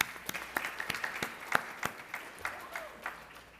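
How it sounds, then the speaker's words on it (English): Scattered, fairly faint applause from a small group, sharp separate claps spread over a few seconds against a soft background hiss. "We'll give a big round of applause."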